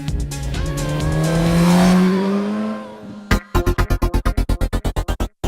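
Suzuki GSX-S1000 motorcycle engine revs up and falls in a loud, rising-then-dropping exhaust note for about three seconds, followed by a rapid series of sharp, evenly spaced pulsing bursts close to the microphone.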